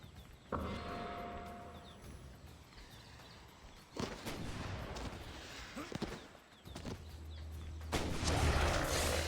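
Cannons fire in the video game Marvel: Ultimate Alliance 2, with several heavy booming blasts at intervals, each trailing into rumbling battle noise, loud and close amid game effects.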